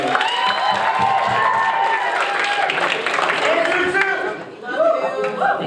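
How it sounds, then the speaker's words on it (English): A school audience claps and cheers for the Class of 2016 senior class. The steady, loud applause carries whoops and crowd noise, then dips briefly before swelling again near the end. "Let's give a round of applause to the entire senior class."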